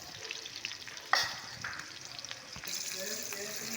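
Onions dropped into hot oil fry with a steady sizzle, a sharp burst near the start followed by continuous crackling and occasional stirring, close by in a home kitchen.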